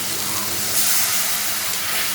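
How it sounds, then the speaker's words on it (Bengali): Water poured into fried spice masala in a hot pan for a fish curry, giving a steady, loud hiss of steam and sizzle that runs unbroken throughout with no talking. "এখন আমি ওই সামান্য জল দেব"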